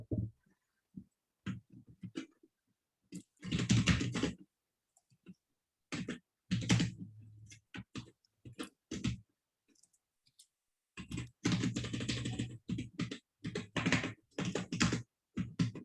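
Rapid bursts of typing on a computer keyboard, clusters of quick clicking keystrokes separated by pauses, close and fairly clear with no talking.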